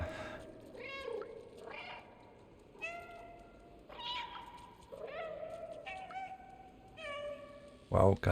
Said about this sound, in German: Du machst viel Lärm, du miaust viel rum.